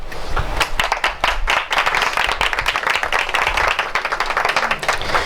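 Loud, close applause from an audience honoring a top student as she stands, many hands clapping briskly and continuously throughout.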